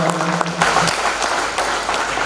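Audience applause at a Hindi poetry gathering, a dense, fairly loud wash of clapping running throughout the short clip.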